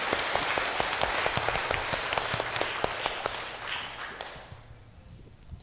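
A church congregation applauds during a Sunday service, a dense wash of clapping with a few sharper individual claps that fades away toward the end.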